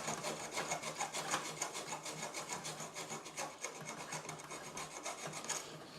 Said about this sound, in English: we'll go back to trying to use a small file, and it's just taking out the burrs on these ones here